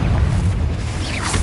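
Confringo blasting spell going off in a Harry Potter video game: a loud, deep booming blast with a heavy low rumble that carries on for over a second, with no voices.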